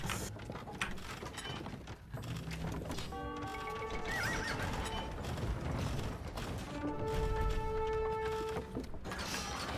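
Horse archers' horses in Age of Empires 2's Attila the Hun campaign neighing and whinnying with clip-clop hooves and mechanical clicks, repeated calls over a dense, busy battle mix throughout.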